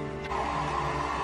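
A Revlon One-Step hair dryer brush runs with a steady, close whirring hum of motor and blown air, unbroken for its whole length with no talk.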